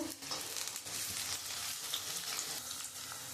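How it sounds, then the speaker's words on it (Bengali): Carrots and beans frying in oil and ghee in a pan, a brief, quiet, even sizzle with faint stirring. "আমি এই গাজরগুলো আমি লাল লাল করে একটু ভেজে নেব বিনস দিয়ে দেব"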